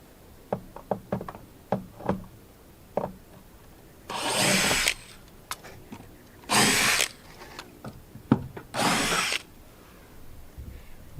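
Three loud bursts of a power drill backing roofing screws out of a roof near a gable end rake, each lasting about a second, separated by scattered sharp knocks and clatter.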